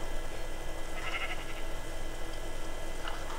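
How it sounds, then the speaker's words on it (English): A sheep bleats faintly in the Minecraft video game on PS3, a short call or two over a steady hissy game background. "Black sheep."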